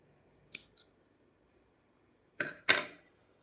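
Scissors snip off a sewing thread, with one light snip early and then two sharper, louder cuts close together near the end, set against a quiet room.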